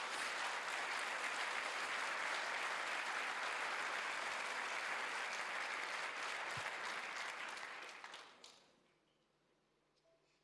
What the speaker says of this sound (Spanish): ¿Por qué no le da un aplauso a la palabra del Señor?